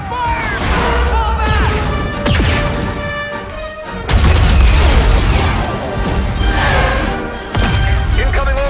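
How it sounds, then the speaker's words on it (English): Orbital strike explosions in the video game Star Wars Battlefront erupt as repeated heavy booms and crashing blasts, loud and close, layered over continuous battle noise and shouted voices. "Incoming orbital strike!"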